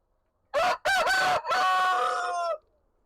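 A single loud rooster crow rings out nearby, a clipped start followed by a long sustained final note, with quiet before and after.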